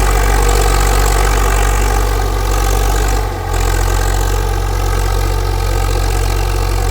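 New Holland tractor engine running steadily in first gear, a loud continuous low rumble that holds level throughout, with only a brief dip near the middle and no talking.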